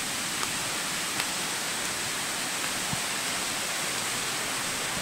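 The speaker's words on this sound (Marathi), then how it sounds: "आणि पूर्ण धबधब्याचा आवाज येतोय." A small forest waterfall in the hills pours in a steady, dense hiss of falling water, close and unbroken, with no voices.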